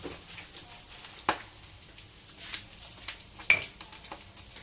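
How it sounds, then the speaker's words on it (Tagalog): Spices sautéing for pork humba in a pan, a steady soft sizzle broken by several sharp scrapes and clinks of a utensil stirring against the metal, close and moderately quiet with no talking. "Nya maghawan sa kuog panakot sa akong humba"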